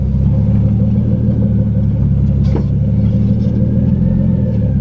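A Nissan 240SX engine runs right after starting, a loud, steady, close rumble with a constant drone and no clear revving, and no talking.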